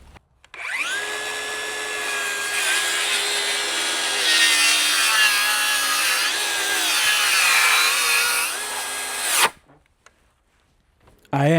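A cordless circular saw, either a DeWalt DCS590 or a Milwaukee 2834, cuts through wood in one loud, sustained whining pass that rises and wavers in pitch as the load shifts, then cuts off abruptly near the end.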